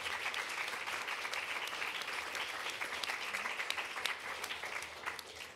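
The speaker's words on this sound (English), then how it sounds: "Let's just have another round of applause" Audience applauding a discussion panel at a talk event, steady clapping that holds evenly throughout at moderate distance, with no break.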